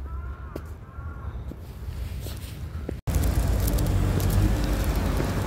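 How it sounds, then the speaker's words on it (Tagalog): A few crow caws ring out in the distance over outdoor ambience in Korea, followed by louder, steady traffic noise from passing vehicles. "May uwak doon."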